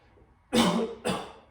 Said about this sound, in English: go ahead and take a big cough for me